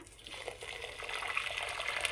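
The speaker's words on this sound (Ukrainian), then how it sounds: "тепер заливаю це все водичкою" Hot filtered, boiled water being poured into a jar while making kombucha, a steady splashing trickle that swells slightly louder as the pour continues, close by and with no talking.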